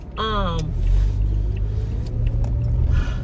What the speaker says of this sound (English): this truck sound horrible.